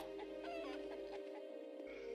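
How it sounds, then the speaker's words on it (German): A chicken in the Technomage video game gives brief, soft clucks over a quiet game backdrop with a steady low tone. "Ein Huhn. Hühnchen."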